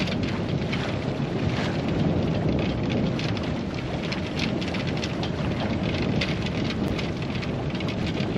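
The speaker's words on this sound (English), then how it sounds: "Oh man, that's some good wind." Strong wind blows steadily across a sailboat, a loud, unbroken rushing roar with no talk.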